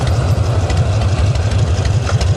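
A large chopper motorcycle, around 1000 to 1200 cc, idles loudly and close, its low engine pulse steady and uneven, with no talk over it.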